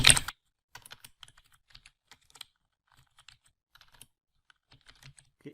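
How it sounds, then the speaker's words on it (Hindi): Code is typed on a computer keyboard in quick, soft, uneven clusters of keystrokes with brief pauses, close and quiet against a silent background, after one louder knock at the start. "यहाँ पे हम लिखते हैं विंडो डॉट ओपन"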